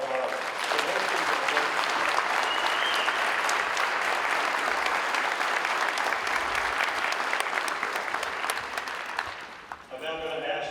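Sustained applause from a large audience at a sheriff's office promotion ceremony, a dense, steady wash of clapping lasting about ten seconds before fading out, with a voice briefly audible at the end.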